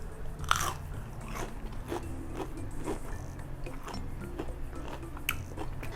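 Someone bites into crunchy battered vegan onion rings, with close crisp crunches followed by steady chewing and small crackles, and no talking.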